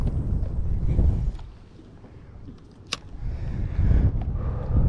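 Wind gusts across a microphone outdoors beside a creek on a cold, overcast day while fishing for crappie, a steady low rumble that swells loud, eases off in the middle, then builds again, with one brief sharp tap.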